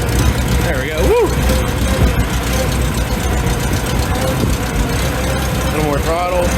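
A 1948 Farmall Super A tractor engine runs steadily with a low, continuous rumble, and a couple of brief revving swells rise near the start and end as the throttle is opened.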